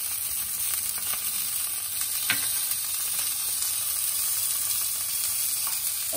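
Ahi tuna steaks searing in a pan with butter and rosemary, giving a steady close-up sizzle and hiss throughout, with a few faint pops and ticks and no talking.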